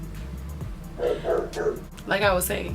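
Dogs bark in several sharp bursts alongside yips and a whimpering tone, close and loud, mixed with a person talking over them.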